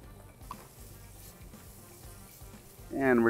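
Shallot added to hot canola oil in a pot, giving a faint steady sizzle that swells into a loud frying hiss near the end.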